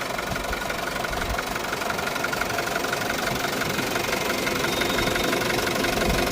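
A 2021 Isuzu D-Max diesel engine idles steadily nearby, a continuous knocking rumble with even loudness throughout and no voices.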